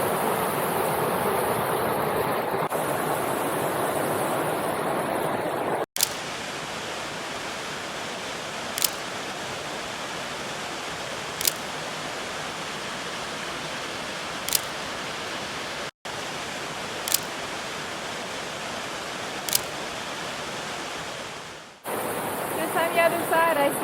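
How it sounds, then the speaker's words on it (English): Ripley Falls, a 100-foot cascade on Avalanche Brook in Crawford Notch, New Hampshire, gives a steady broadband rush of falling water, even and continuous throughout, with a few faint clicks. "Ripley Falls cascades 100 feet, and it's coming off of Avalanche Brook."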